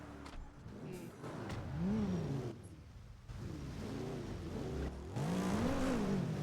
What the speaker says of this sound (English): I hear what sounds like a traffic jam above us